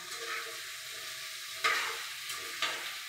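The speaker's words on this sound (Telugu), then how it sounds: "ఇవన్నీ కలిపి కొంచెంసేపు అలాగే మూత పెట్టకుండా వేయించాలి." Okra curry fries uncovered in a pan with a soft, steady sizzle, broken by a couple of brief scraping stirs.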